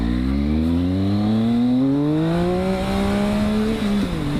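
A Triumph Speed Triple 1050 motorcycle pulling hard in first gear, its engine note climbing steadily in pitch, loud and close, with a brief dip near the end.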